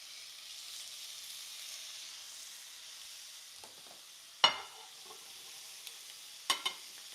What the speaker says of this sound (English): All right, so you hear that sizzle?